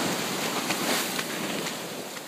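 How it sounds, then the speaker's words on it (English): Ocean waves wash along the seashore of Nauset Beach in a steady, broad rushing surf with wind noise, continuous and fairly loud, with no talking. "taking a walk with me on the seashore of Nauset Beach."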